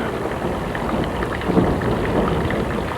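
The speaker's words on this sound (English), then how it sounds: "Oh, rain, go away." Steady rain pours down with a low rumble of thunder building near the middle, a continuous wet wash with no voices over it.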